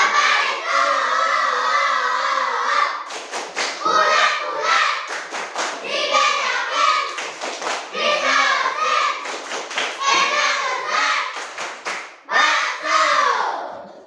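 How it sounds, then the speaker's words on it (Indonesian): A school class performs the tepuk bakso clapping chant before a presentation, with sharp bursts of group hand claps between loud, rhythmic chanted voices of children and a teacher. "Sebelum kita presentasi, kita tepuk bakso ya."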